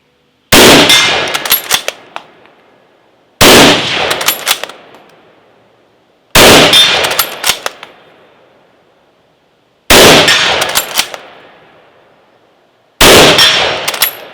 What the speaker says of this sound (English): I'm going to go ahead and take some more shots at that 90-yard silhouette